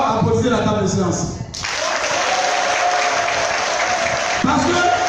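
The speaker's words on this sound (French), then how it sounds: "applaudissez la table de séance" At a political campaign launch event, a voice speaks at the start, then an audience breaks into sustained applause, many hands clapping steadily at a loud, even level to the end.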